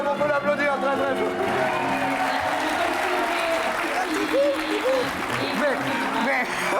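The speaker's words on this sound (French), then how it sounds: "on peut l'applaudir très très fort." Studio audience at a French television game show clapping loudly and steadily throughout, with cheering mixed in and a presenter's voice over the applause.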